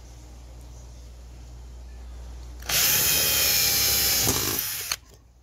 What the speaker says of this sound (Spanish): ahora con el taladro vamos a instalar uno acá. Vamos a abrir un agujerito ahí para que pueda entrar el tornillo fácilmente